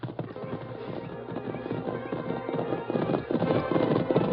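Horse hoofbeats in a radio-drama Western clip-clop steadily at a trotting rhythm, growing louder and closer toward the end.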